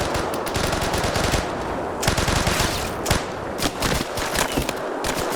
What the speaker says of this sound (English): But now they're shooting at their own guy over here.